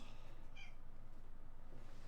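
A faint, brief meow from a house cat close by, a single short call over quiet room noise.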